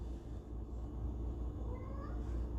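A cat meows softly in a home kitchen during cake making, one drawn-out rising cry that stays faint against steady low background noise, with no one talking.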